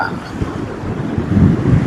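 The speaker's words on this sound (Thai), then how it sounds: "เป็นความสวยงามส่วนหนึ่งของจังหวัดระยองนะลมแรงมาก" Strong wind gusting at a beach in Rayong, a loud, steady rumbling buffet across the microphone with a faint voice beneath.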